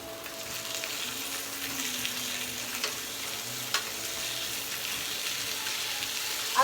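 Pork chops fry in a ridged grill pan with a steady, soft sizzle that runs continuously, broken now and then by a brief crackle or clink.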